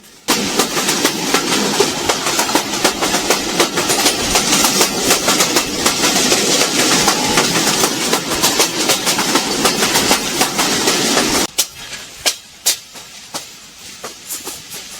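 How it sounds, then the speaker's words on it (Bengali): A train rumbles loudly along the tracks near Jashore Junction with rhythmic clacking; after about eleven seconds the roar drops away as the train slows, leaving sparse, quieter wheel clicks. "আমাদের ট্রেনের গতি অনেক কমে গেছে"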